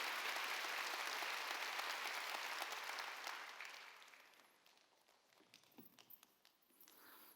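A church congregation at a Wednesday worship service claps loudly together, sustained applause that gradually fades away, leaving a few scattered claps at the end.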